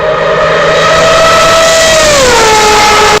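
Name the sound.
four-rotor racing car rotary engine revving to 9,000 rpm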